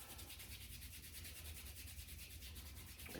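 Two hands rubbing together during a stress-relief practice, a soft, steady, continuous rubbing swish that stays low and close without a break, with no speech.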